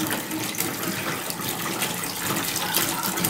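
Tap water gushes steadily into a pan, a continuous broadband rush of pouring liquid heard close and fairly loud, with no talk over it, as half a gallon is measured out for a kitten's lime sulfur dip.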